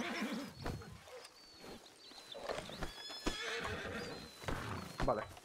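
Horse neighs and hoofbeats in the RedM roleplay game, several whinnies over steady clip-clop, fairly close and mixed with people talking.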